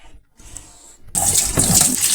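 Water pours into a small washing machine tub, starting after about a second of quiet, then a steady, close, splashing stream continues to the end with no talking.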